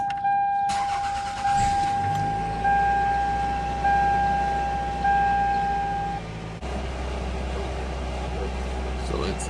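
A 1999 Toyota Camry engine cranks briefly, catches, and settles into a steady high idle with a faint tonal whine, heard up close with a shift in the engine note partway through.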